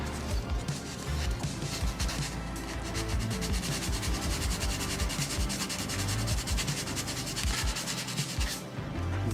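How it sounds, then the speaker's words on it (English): Steady rasping strokes of sanding on a small model-car headlight part for a Porsche 911 GT3 RS kit, close and continuous for several seconds with a rapid scraping rhythm and no talk. "Okay, I need to sand it a little bit."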